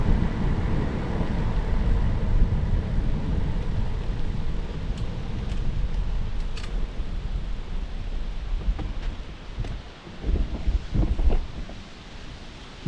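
Strong wind roars across the microphone during a warm bike ride beside canals, a steady loud blustery rush with gusts and a few faint knocks, no talking.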